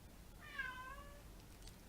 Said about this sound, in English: That's our cat Sadie.